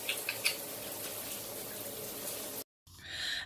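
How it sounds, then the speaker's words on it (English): Shower water runs steadily while hair is rinsed, a broad, even hiss with a few splashy spikes early on, then a brief dead gap before the spray resumes. "I'm going to rinse this out, and I'll be back when I get out of the shower."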